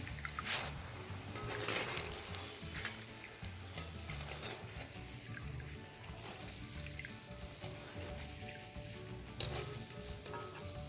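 Spiced boondi batter drops frying in hot oil in an iron wok, a dense continuous sizzle and crackle with occasional bursts as more batter hits the oil, close and loud throughout.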